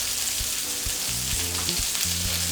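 Burger patties sizzle and crackle loudly in a hot pan, a dense continuous frying hiss with scattered pops and a few short knocks of utensils, close by and with no talk.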